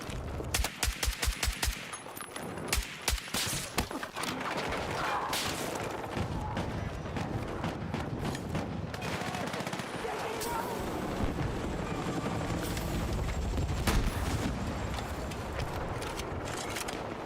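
SVDM rifle fire in Battlefield 6, a run of sharp rapid shots up front followed by a dense wash of battle noise, gunfire and crashes, with a voice talking over it.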